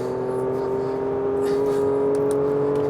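A Porsche Macan Turbo SUV drives fast on a track, its engine holding a steady, loud whirring drone with a sustained tone and faint tyre and wind noise.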